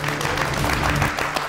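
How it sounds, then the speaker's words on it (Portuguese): Applause from a studio audience on a Brazilian TV news programme, a steady dense clatter of clapping filling the short stretch at even loudness. "Os aplausos!"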